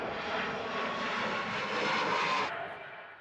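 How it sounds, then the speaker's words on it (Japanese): An airplane takes off from a runway at Haneda Airport, a loud, broad engine roar that swells and then fades as it passes by nearby. "運が良ければ風向きによって飛び立つ飛行機をこんなに近くで見ることができ"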